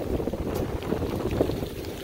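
A Smart Cat S280 sailing catamaran idles in place on Biscayne Bay in Miami while waiting for a bridge opening, giving a low steady rumble mixed with wind and water noise and no talk.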